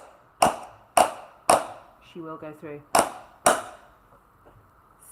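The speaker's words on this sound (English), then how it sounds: "we're just going to use our trusty hammer and coax it through" A hammer knocks a mounting bolt through a roller skate plate in five sharp, ringing metallic strikes at an uneven, roughly half-second rhythm, close and loud, with a brief spoken phrase between blows.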